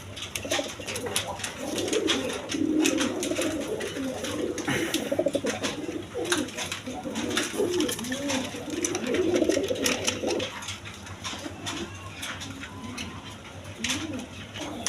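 Fancy feather-footed pigeons kept for sale coo repeatedly, fairly close, in overlapping throaty rolls over a low steady hum, with faint shuffling and clicks around them.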